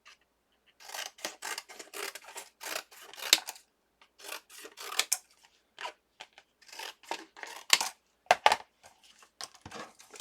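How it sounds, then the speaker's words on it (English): Scissors snip through cardstock in a close, crisp series of crunchy cuts, arriving in bursts separated by short pauses, with no talking. "I'm going to cut some of this cardstock off so I can put it at an angle"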